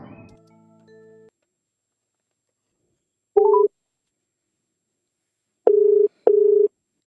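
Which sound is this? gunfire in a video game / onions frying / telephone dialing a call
telephone dialing a call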